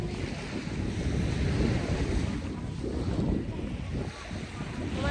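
Strong wind roars steadily at a seashore in a valley, with waves and surf washing beneath it and heavy buffeting on the microphone, loud and continuous throughout.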